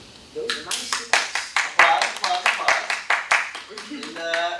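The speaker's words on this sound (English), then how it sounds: "Applause" Applause from a small group at a motion design critique session, a steady patter of hand claps lasting several seconds, close and fairly even, with no talk over it.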